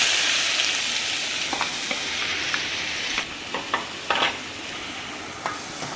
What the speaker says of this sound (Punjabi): ਹੁਣ ਆਪਾਂ ਪਿਆਜ਼ ਪਾਵਾਂਗੇ ਪਿਆਜ਼ ਵੀ ਆਪਾਂ ਪਾ ਦਿੱਤੇ